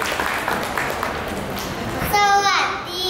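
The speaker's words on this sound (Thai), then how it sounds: "ปรบมือเป็นกำลังใจให้กับน้องจีจี้ด้วยครับ" An audience claps for a young girl named Gigi at a children's storytelling event, a broad steady patter filling the first two seconds before a voice begins speaking.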